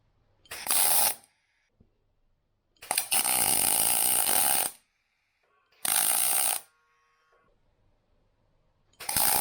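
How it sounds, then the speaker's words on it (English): Tack welding on a car patch panel, with four separate buzzing bursts of about one to two seconds each, loud and close, and short quiet gaps between them. "It'll take a weld along here, so I need to put a tack on the very front."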